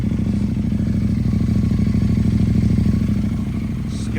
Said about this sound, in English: Just give it a little rev, see how it sounds.